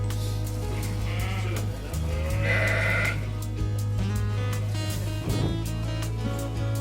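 Sheep and lambs bleat repeatedly in a lambing shed during a night shift with a large ewe flock, close and clear over a steady low hum.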